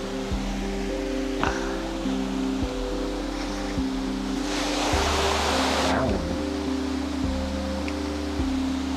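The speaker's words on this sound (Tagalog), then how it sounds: "enjoy naman natin yung falls ngayon" A waterfall on a mountain ride stop, a steady, broad rush of falling water throughout, with a brief louder surge in the middle, heard alone without speech.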